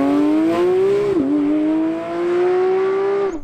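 Porsche 992 GT3 engine giving a harsh, mechanical race-car howl, a steady loud drone that rises slowly with one brief dip midway, heard up close and alone.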